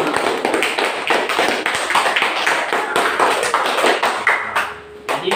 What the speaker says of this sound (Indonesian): Beri tepuk tangan juga untuk kelompok 4 yang kuat.